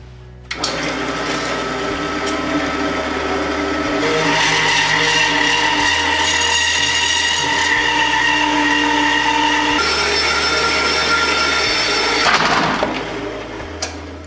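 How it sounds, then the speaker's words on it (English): A bandsaw cuts through a thick steel rail, making a loud, continuous, grinding whine with a steady hum underneath that runs unbroken for over ten seconds. "they're finally off the bandsaw"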